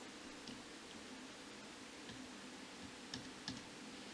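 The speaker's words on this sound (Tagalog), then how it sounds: "So, i-type lang po natin dyan." Faint, sparse keystrokes on a computer keyboard while filling in answers for a quiz setup, a few light clicks scattered over a steady hiss of background noise.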